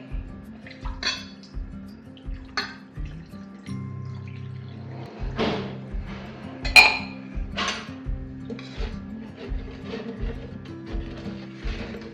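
A spoon clinks steadily against a vessel while stirring pani puri spice water with salt, black salt and pepper powder, sharp taps in a regular rhythm over soft low knocks, close and fairly loud.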